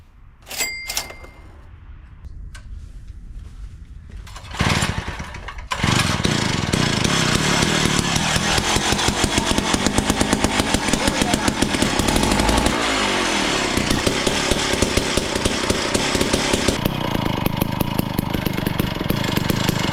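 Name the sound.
gas-powered ice fishing auger engine starting and running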